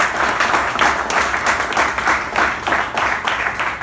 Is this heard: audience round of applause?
yes